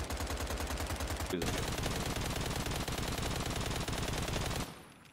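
Weapons from the Just Enough Guns Minecraft mod fire in sustained rapid automatic bursts, loud and close, with a brief gap near the start and an abrupt stop near the end.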